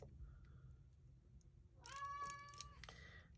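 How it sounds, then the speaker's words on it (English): A house cat gives one drawn-out meow near the end, fairly close and clear, over faint low background hum with a soft earlier chirp. "Oh, my cat."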